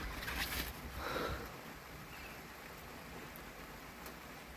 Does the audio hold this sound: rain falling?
yes